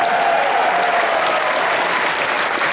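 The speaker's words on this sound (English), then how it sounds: "Big round of applause for the people that are letting us live here for a few days." A convention audience at an opening ceremony claps in sustained, dense applause that holds steady and fills the room for the whole stretch, with no voices standing out.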